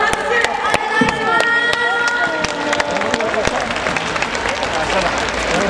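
Crowd at a speed skating World Cup meet in Obihiro cheering and clapping steadily, with a venue announcer's voice and arena chimes over the continuous applause.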